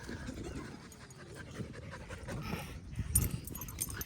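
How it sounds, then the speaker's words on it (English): An older French bulldog panting softly outdoors, a steady stream of quick, faint breaths close by, with no talk over it. "That's an older Frenchie."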